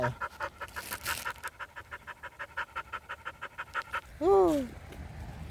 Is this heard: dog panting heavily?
yes